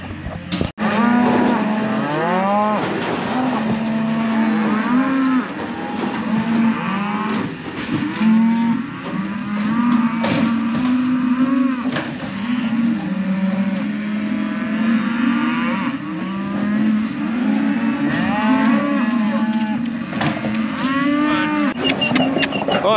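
Many cows and calves moo and bellow continuously, deep overlapping calls from a crowded herd close by during loading, with a faint engine rumble underneath.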